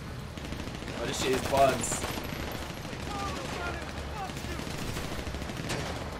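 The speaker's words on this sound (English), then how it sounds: "Oh, we got a whole bunch of weapons with Franklin. Machine pistol." Franklin fires a machine pistol in Grand Theft Auto V, a rapid rattling burst of shots at moderate loudness followed by scattered further fire. Someone talks over the gunfire.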